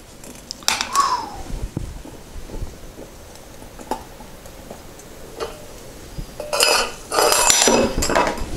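A Petromax Perkomax coffee percolator lifted off the heat gives a few sharp metallic clinks and clatters, with a brief scrape near the start and a denser burst of metal rattling toward the end, fairly close by.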